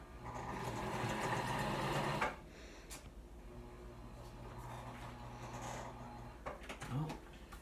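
A sewing machine stitches a handkerchief, whirring steadily for about two seconds before stopping. Quieter clicks and light handling noises follow.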